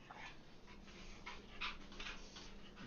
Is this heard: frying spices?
no